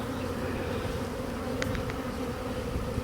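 Honeybees buzz steadily around an opened hive with frames being drawn out, a dense, close, continuous drone with a few brief higher clicks midway.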